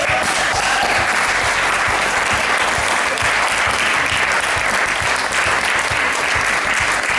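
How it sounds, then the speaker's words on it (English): A large audience claps loudly and steadily at a 2016 reception for the Krtser Homeland initiative, a dense, sustained wall of applause with no voices over it. "I want to say a final round of applause to Krtser Homeland"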